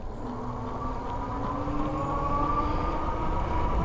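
A Rad Mini folding electric bike rides on throttle at about 750 watts, its motor giving a steady whine with faint tonal lines over continuous road and wind rumble, with no voices.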